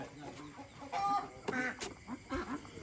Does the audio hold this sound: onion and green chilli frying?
no